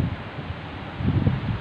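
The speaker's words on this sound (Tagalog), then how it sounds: "Tuklap ang carpet agi sa kakusog sa hangin." Strong wind gusts buffet the microphone outdoors at a family day out, a steady rushing roar with rustling that swells louder toward the end, no voices.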